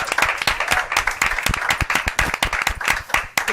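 Audience applause at a community event with a state senator, dense sharp claps from a modest crowd in a room, loud and close, continuing steadily throughout.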